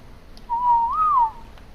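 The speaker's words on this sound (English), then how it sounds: "If I whistle right now, it's not going to do anything." A player's whistle command in the video game Ark Survival Evolved: a single clear, rising-then-falling whistled tone lasting under a second, loud and isolated against quiet background noise.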